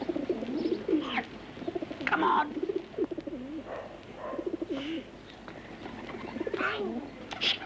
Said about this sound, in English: There's the pigeon there.